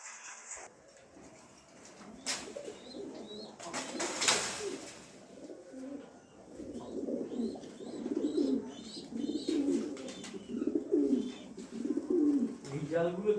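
A pet fancy pigeon coos in soft repeated bursts, fairly close, with rustling and other faint bird sounds between the calls.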